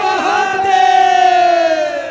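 A loud, drawn-out shout of the 'Jai Veer Bajrang' devotional cry rings out, sustained and close, at a live kirtan bhajan gathering, with a crowd joining in.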